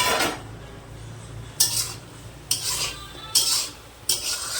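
Lid lifted off a cooking pot of mashed mixed vegetables, a steady low background hum broken by four bright metallic clinks and scrapes of utensils against the pot, close and alone without speech.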